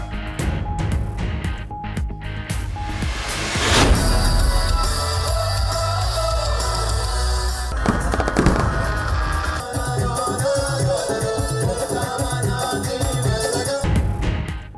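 Fireworks display at the first water sports festival held under the Karachi Port Trust, a dense, loud, continuous barrage of crackling and booming that keeps going without pause.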